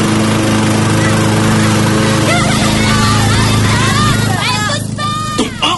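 A lawn mower engine drones loud and steady with a constant buzzing hum, and voices begin talking over it toward the end.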